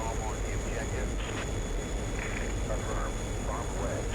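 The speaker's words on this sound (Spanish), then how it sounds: "No, pues sigue volando el helicóptero" A helicopter flying in the DCS flight simulator game during an Angola campaign mission gives a steady, loud, broadband engine and rotor drone that holds through the whole moment.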